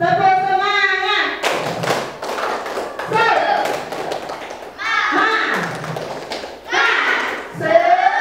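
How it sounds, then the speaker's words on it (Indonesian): Children in a classroom clap a rhythmic spirit clap in quick bursts of sharp claps and thuds, alternating with a voice leading them. "Ulangi. Tepuk semangat."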